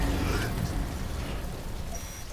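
Rain falling steadily in the video game Death Stranding, a broad continuous patter and hiss with a faint low rumble underneath, no voices.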